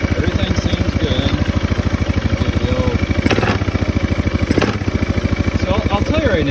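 A Yamaha Majesty 400 scooter engine, swapped into a Honda Ruckus, idles after a roll start with a loud, close, evenly pulsing chug and a couple of brief sharper bursts.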